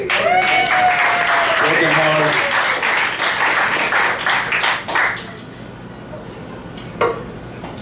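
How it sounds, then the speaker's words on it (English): A comedy club crowd at a cafe gives a comedian a loud round of clapping with cheers, dense at first and then tapering off after about five seconds, with someone speaking briefly near the end. "Round of applause for Tony."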